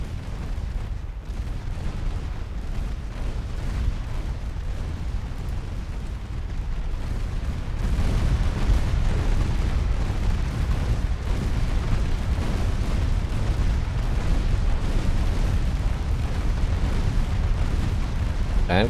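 Heavy 7.2 inch secondary naval guns firing in a video game naval battle, a dense, continuous roar of booms and blasts that swells louder partway through, with no clear gaps between shots.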